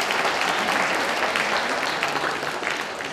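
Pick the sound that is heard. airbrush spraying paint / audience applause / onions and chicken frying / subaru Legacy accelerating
audience applause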